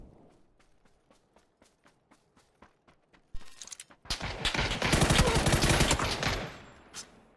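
Gunfire in the battle royale game PUBG: a string of evenly spaced distant single shots, then a loud, close burst of rapid automatic fire that tails off.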